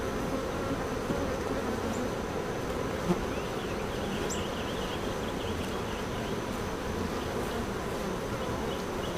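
Honeybees from a hive being opened for inspection during a nectar dearth hum steadily throughout, a dense, even buzz close to the listener with occasional louder bees passing nearby.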